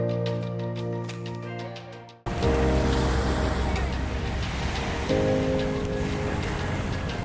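Sea waves wash against the Suma coast in Kobe, Japan. A quieter opening gives way to a loud, continuous surf roar mixed with wind buffeting the microphone.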